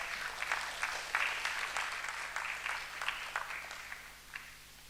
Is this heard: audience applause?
yes